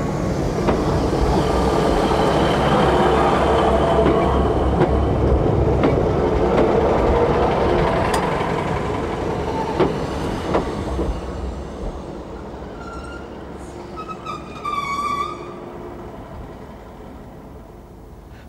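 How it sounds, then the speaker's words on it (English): A passenger train runs on a single-track South Wales line, its steady loud rumble and wheel clatter fading as it passes, with faint birdsong near the end. "many are served only by passenger trains such as this,"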